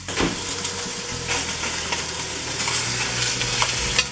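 Meat browns in a frying pan for a family rigatoni sauce, giving a close, steady sizzle with spitting fat and a few clicks of a utensil against the pan.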